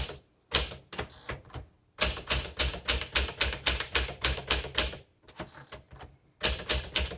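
A 1958 Smith Corona Silent Super manual typewriter is typed on in near pristine condition, giving crisp rhythmic keystrokes in steady runs broken by short pauses, loud and close.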